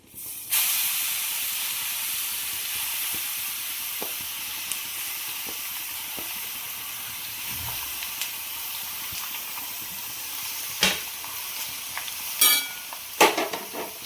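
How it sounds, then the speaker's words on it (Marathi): Grated carrot for gajar halwa goes into a hot pan with dry fruits and sizzles loudly at once. A steady frying hiss carries on throughout, broken by several sharp scrapes of stirring toward the end. "आता आपण किस घालून घेऊया।"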